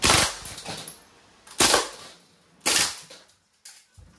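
A CO2-powered blowback airgun rifle fires on full auto in three sharp, close bursts separated by short pauses, followed by a faint final click.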